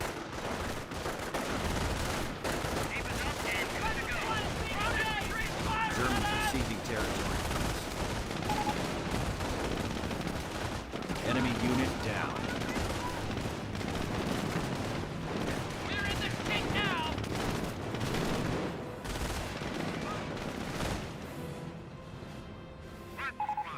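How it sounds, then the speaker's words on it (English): Continuous rifle fire and heavier gunfire in the video game Company of Heroes, with dense overlapping shots, bursts and battle crashes that run loud throughout under in-game voices talking. "Taking rifle fire!"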